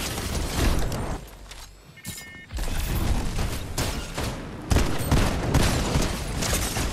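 An automatic shotgun in Fortnite Chapter 5 fires in rapid, loud blasts and volleys, close up, with a short lull midway before the shooting resumes among other gunfire and impact clatter.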